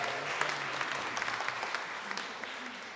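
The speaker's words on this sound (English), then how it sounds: "Let's give him a cheer." An audience claps and cheers for a violinist at a choir concert in a church nave, a dense patter of applause at moderate distance that holds steady throughout with scattered sharp claps.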